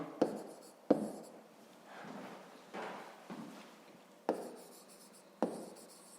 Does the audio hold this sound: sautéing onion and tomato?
no